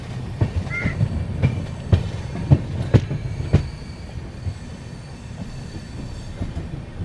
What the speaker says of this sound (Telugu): మన ట్రైన్ కరెక్ట్గా ఆన్ టైంకి అయితే బయలుదేరిపోయింది నర్సాపురం నుండి